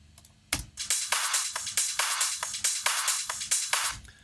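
An original drum sample loop including a clap plays on its own after a brief quiet start, with a strong opening hit, then steady bright percussive hits and hats repeating in a tight, even dance rhythm.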